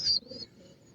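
Breeder pigeons in a loft giving a short, soft coo after a brief high chirp, close and quiet.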